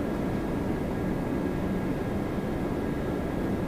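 An airplane approaching Toronto Pearson airport gives a steady, low broadband rumble that holds evenly throughout, moderately distant and without any talk over it.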